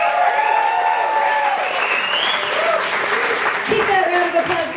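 Audience applause at a fire show in a downtown St. Pete venue, steady crowd clapping throughout with cheers and whoops rising over it and a voice calling out near the end.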